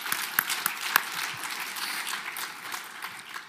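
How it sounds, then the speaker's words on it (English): Conference audience applauding teachers at a concussion summit, a fairly soft, even patter of many hands clapping with a few sharper claps near the start, heard alone without talk. "Applaud yourself."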